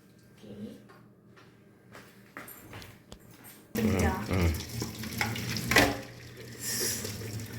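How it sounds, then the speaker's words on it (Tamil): Water from freshly boiled spaghetti being poured off into a drain, a loud, steady rushing splash that starts suddenly after a few quiet kitchen knocks and continues close by to the end. "ஸ்பெகட்டி வந்து வேக வச்சுருந்தா நல்லா வெந்துருச்சு தண்ணியை வந்து நம்ம வடிகட்டிடலாம்"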